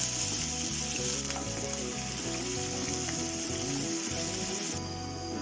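Ginger and garlic frying in hot oil for a pomegranate and lemon pickle, a loud continuous sizzle close by with steady stirring scrapes and no talking.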